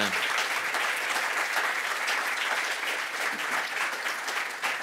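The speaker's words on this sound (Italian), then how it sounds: "Vorrei che faceste un bel applauso per Alessandro Perisinotto e per Fai Teiniken." An audience at a crime-fiction book event applauds two authors, with a dense, continuous burst of clapping, full and steady across nearly five seconds.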